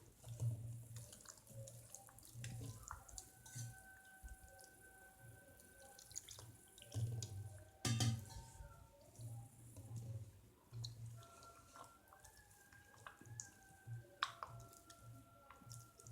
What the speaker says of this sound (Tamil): ஸோ இந்த தண்ணியை வந்து கொஞ்சம் கொஞ்சமாக மாவில் சேர்த்து கரைச்சிக்கலாம்.